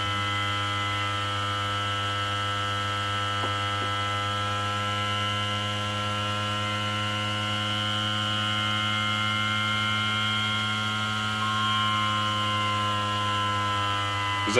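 A magnet motor driving a coil runs with a steady electrical hum and whine, holding an even drone throughout, close and continuous with no talking.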